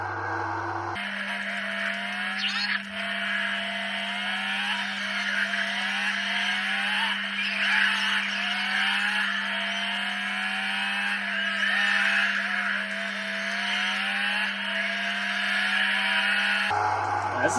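A car in a racing video game spins out, with steady engine whine and repeated tire squeals and skids rising and falling over a constant electronic hum, without any talk.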